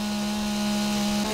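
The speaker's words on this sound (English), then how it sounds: "I hear a chainsaw." Chainsaw in the survival video game 7 Days To Die, a steady droning buzz that runs unbroken through the whole moment, with a slight shift in pitch near the end.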